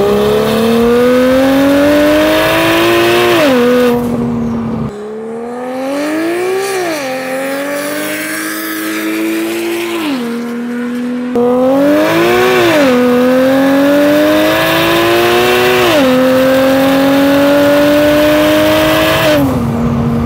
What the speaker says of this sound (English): the sounds are good on this car